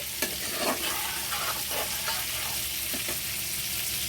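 Spice masala with ginger paste, turmeric and Kashmiri chilli powder frying over high heat in a pan, a steady close sizzle broken by a few scraping stirs, with no talking.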